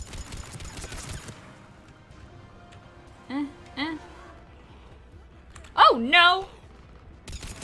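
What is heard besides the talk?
gun firing in video game Mass Effect 3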